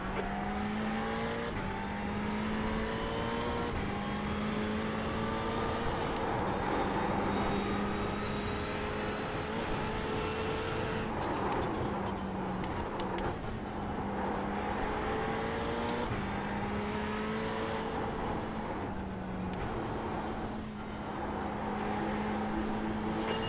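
Race car engines in a VLN endurance race hold a steady, close, loud drone that rises and falls in pitch through gear changes, with no talking over it.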